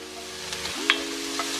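Bacon frying in a pan with frog legs being smothered: a steady, soft sizzling hiss with a steady low hum, broken by a few faint clicks and pops.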